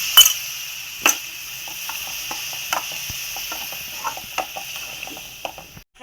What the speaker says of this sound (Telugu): ఇప్పుడు పెరుగు వేసుకున్నాను.